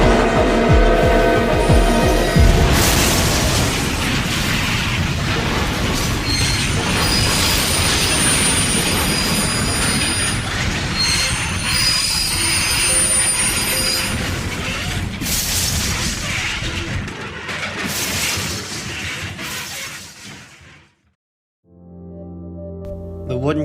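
A steam-era passenger train with wooden coaches brakes hard before a collision at Armagh: loud, continuous rumbling and grinding with thin high squeals over it, then a sudden drop to near silence and a faint lingering tone.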